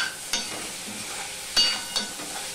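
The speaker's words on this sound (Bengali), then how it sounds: "আমি এগুলো আবারও ভেজে নেব ভালো করে।" Soft sizzling of raw banana pieces frying with turmeric in a pan, broken by a few sharp scrapes of a spoon stirring against the metal.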